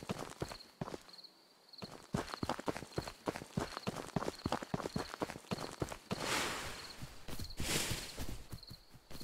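Footsteps crunching across grass in the video game Ghosts of Tabor, a steady walking rhythm of close, soft thuds with a brief quiet pause, continuing under a faint ambient hum.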